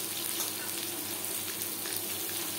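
Sliced onion dropped into hot oil with dried chilli, five-spice seeds and bay leaves, giving a loud, continuous close sizzle for a couple of seconds.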